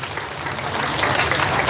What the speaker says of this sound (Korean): 그 윤상현을 위하여 이제 여러분 힘찬 박수를 다시 한번 모아주십시오